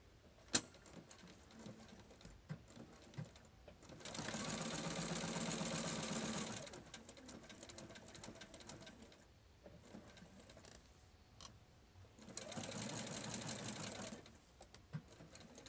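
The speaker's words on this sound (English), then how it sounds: "So let's take it to the sewing machine." Sewing machine stitching fabric for a chest middle piece in two bursts of several seconds each, a fast steady whir separated by quiet pauses and small clicks.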